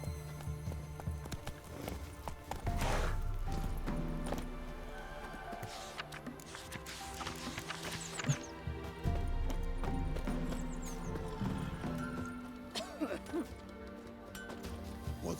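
The horse Roach gallops in The Witcher 3, with a rhythmic clip-clop of hooves mixed into game music and effects.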